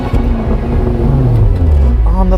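The 4.4 liter V8 of a 2023 Range Rover Sport First Edition rumbles deeply, revving with rising pitch under throttle, loud and close from inside the cabin, briefly and without speech.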